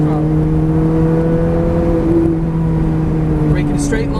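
Ferrari F430 engine pulling hard on a race track, a steady loud drone with rising harmonics as the throttle opens, close and continuous, with a faint voice briefly over it near the end.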